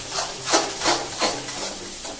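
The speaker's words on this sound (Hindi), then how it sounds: "डालने के बाद इसको कंटिन्यू हिलाते रहना है," Curd being stirred into lauki (bottle gourd) sabzi in a pan, a steady series of about six rhythmic scraping strokes, close and moderately loud, with no talking.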